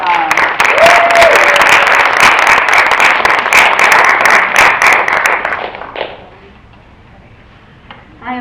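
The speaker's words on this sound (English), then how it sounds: "Can you please give a round of applause to Ms." Loud, dense applause at a cultural day event for fellows, with cheering mixed in, sustained for several seconds before dying away into near quiet, a few stray claps at the end.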